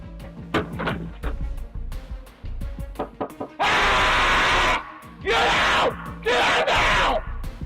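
A man lets out loud, raw screams in several long bursts separated by brief pauses, with scattered sharp noises before them.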